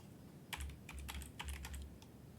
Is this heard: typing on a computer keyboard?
yes